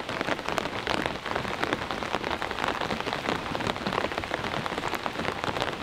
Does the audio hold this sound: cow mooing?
no